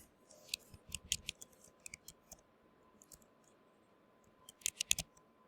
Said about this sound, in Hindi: देखो क्लिक किया